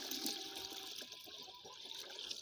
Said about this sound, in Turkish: Bu suyu bir dolduralım arkadaşlar